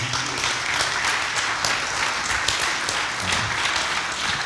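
An audience at an awards ceremony in Morocco applauds an award recipient, a dense, sustained burst of clapping from a large crowd, loud and continuous without a break.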